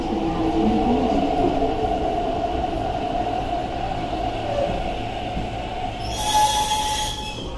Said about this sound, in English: A nine car train to Sheung Shui is arriving.